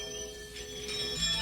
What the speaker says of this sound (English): That's what is making the noise, camel bells.